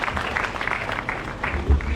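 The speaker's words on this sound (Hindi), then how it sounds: "एक बार पुनः जोरदार तालियों से स्वागत।" An audience at a college cultural event in Haldwani gives a welcoming round of applause, a brief, fairly close patter of clapping with a low thump near the end.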